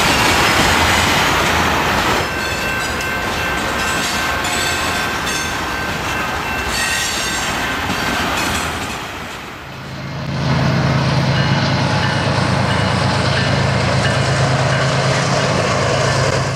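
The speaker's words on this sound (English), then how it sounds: "symbol freight SYMS eases along the north side of the yard toward CP 285" Conrail symbol freight SYMS eases along the north side of a rail yard toward CP 285: loud rolling rumble and wheel clatter with high squealing tones, then a dip and a deeper, steady rumble of passing cars.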